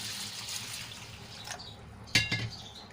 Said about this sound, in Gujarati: તો સરસ રીતે મસળીને આપણે ચોખાને ધોઈ લઈશું